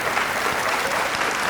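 Audience applause at the Crusade for Children variety show telethon in Paristown Hall: a dense, steady wash of clapping hands from a large crowd, continuous throughout with no voices on top.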